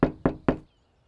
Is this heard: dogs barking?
no